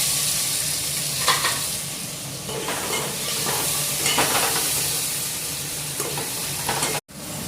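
Sizzling whole spices (cloves, cinnamon, cardamom) frying with onions in oil for vegetable biryani, a steady close hiss with occasional stirring scrapes throughout, no talking.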